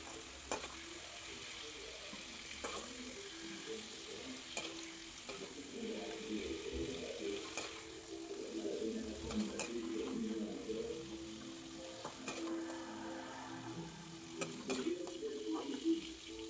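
Brinjal pieces sizzle softly in hot oil in a pan while being scooped out, a faint steady frying hiss broken by scattered light clinks and stirring scrapes.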